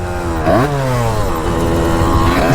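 A motorcycle exhaust drones loudly and steadily while riding, its pitch dipping and climbing with the throttle, close and continuous with no talk over it.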